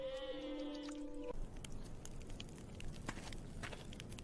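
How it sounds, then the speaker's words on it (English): A goat bleats during milking, one loud drawn-out cry up close, followed by shuffling, rustling and scattered knocks of movement around the animal. "I am staying home to teach you guys how to milk the goat."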